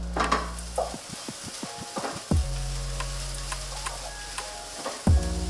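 Fried rice sizzling in a hot pan while a utensil stirs it in quick repeated scrapes, with a few louder clanks of the spatula against the pan, close and without speech.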